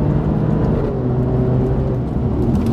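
A Mercedes A45 and an Alfa Romeo Giulia Quadrifoglio on winter tyres accelerating hard side by side in a race, giving a loud, steady roar of engine and road noise with no pauses.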